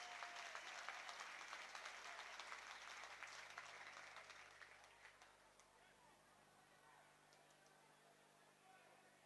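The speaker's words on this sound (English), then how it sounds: "Again, the generous applause for the home fans." Home fans applaud at a Peterborough United versus Cardiff football match, a broad stadium clapping that stays steady for about five seconds before thinning into the crowd's murmur while a commentator talks over it.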